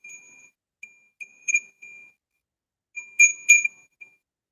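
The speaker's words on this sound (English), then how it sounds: "I'm pretty sure this is a Tibetan bell." A small Tibetan bell rings in a handful of clear, high, sustained tones: a short opening ring, several brief taps and two louder strikes near the end, each fading quickly, close by with no voices.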